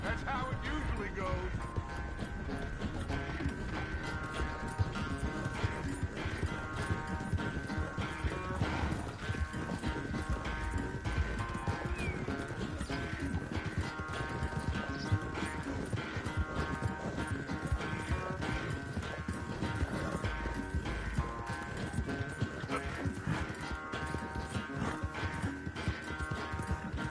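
Rapid galloping hoofbeats from a horse race in Red Dead Redemption 2, a continuous drumming rhythm with occasional whinnies, running steadily beneath game music and spoken dialogue.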